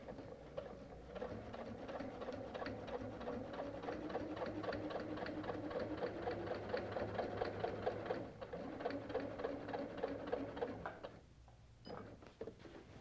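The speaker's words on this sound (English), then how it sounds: "I can just keep quilting." A wide-throat sewing machine quilts an all-border quilt, humming along in a steady, continuous run of rapid stitching before briefly stopping near the end and starting up again.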